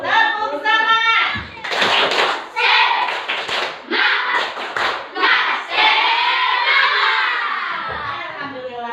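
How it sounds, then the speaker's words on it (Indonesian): Schoolchildren perform a rhythmic spirit clap, tepuk semangat, in a classroom, sharp patterned hand claps and thumps mixed with loud chanting young voices and a teacher leading the routine. "Nah, biar lebih semangat lagi, kita beri tepuk-tepuknya ya"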